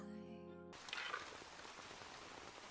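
Rain in an anime episode, a steady soft patter of drops on a surface that starts abruptly after a brief sustained tone, faint and continuous.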